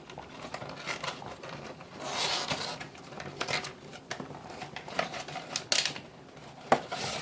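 A cardboard box of Quorn roasts is pulled open up close, with a run of scratchy rustling, tearing and tapping bursts spread irregularly over several seconds.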